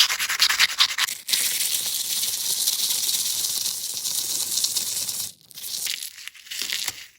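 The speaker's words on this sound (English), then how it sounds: "It's a fine grit sandpaper." Fine grit sandpaper rubs across an eggshell in steady, close strokes, giving a continuous dry hiss that stops briefly near one second and again around five seconds.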